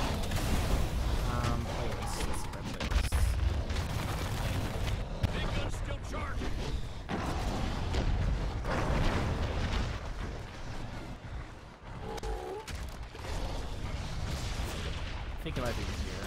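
Hank's orbital barrage in the game Evolve: a sustained run of heavy artillery impacts, pops and explosive bursts rumbling almost without pause, with a voice talking over the bombardment.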